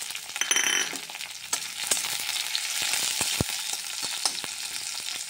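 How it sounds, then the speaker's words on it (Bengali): Crushed garlic hits hot oil and fries in a steady, bright sizzle for Bengali greens, with a few sharp clicks and stirring knocks of a utensil against the pan; no one speaks. "এখন আমি ছেঁচে রাখা রসুন বড়ি আমি তেলের উপরে দিয়ে দিচ্ছি।"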